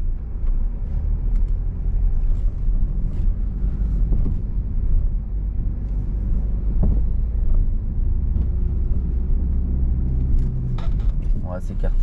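A learner driver's car rumbling steadily from inside the cabin as it pulls away again after braking, engine and road noise constant throughout with an instructor talking over it.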